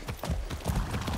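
Horse hooves clip-clopping in Far Cry 6 while riding, a quick rhythmic series of close, thudding hoof beats at a moderate level, with a player's voice occasionally over the steps.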